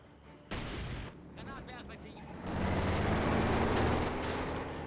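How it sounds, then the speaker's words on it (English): Mortar blasts and rattling gunfire from the video game Company of Heroes 2 crash in loud bursts, with a sharp impact near the start and a dense, sustained barrage building in the second half over faint background chatter. "mortar fire landing all over the place"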